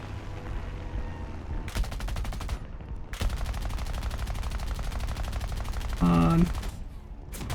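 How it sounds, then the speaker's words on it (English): Tank machine guns in War Thunder firing long, loud automatic bursts at light pillboxes, the steady rattle broken by a brief pause, with someone speaking. "Okay, I guess we're shooting some light pillboxes."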